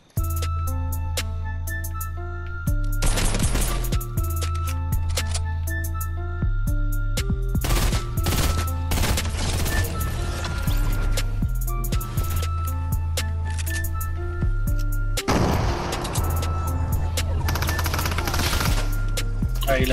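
Fortnite mega weapon firing: rapid bursts of gunfire in several long runs over a steady droning game background, loud and close, with short pauses between volleys.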